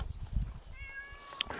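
A cat named Visto on an off-grid island farm in Spain gives a short, faint meow, a thin wavering cry over quiet outdoor background noise.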